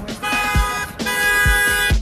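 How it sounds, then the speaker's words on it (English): A car horn honks in short bursts while driving, two long blasts separated by a brief gap, loud and close, with low thumping road or engine noise underneath. "If someone honks at you,"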